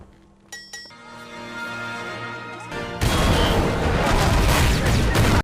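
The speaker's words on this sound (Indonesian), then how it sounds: "V baru saja meledakkan gedung Old Bailey sambil menyetel musik klasik" Soft clinks and a sustained tone of classical music give way to a sudden loud, broad roar as the Old Bailey building explodes in a film scene, rumbling to the end.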